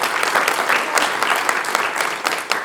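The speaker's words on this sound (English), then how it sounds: "A round of applause for him." Audience at a public speaking championship applauds a speaker, a loud, dense, continuous burst of clapping with crisp individual hand strikes.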